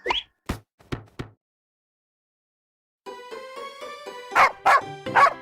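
A cartoon dog barks in a short animated story for an English class. A few sharp plopping knocks come first, then after a silence three loud barks sound over light music.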